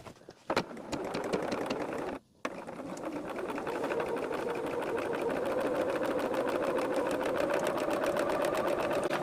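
A sewing machine runs a diagonal line of stitches across quilt fabric, a fast even whirring patter that starts, stops briefly, then resumes and holds steady, close and clear without talk.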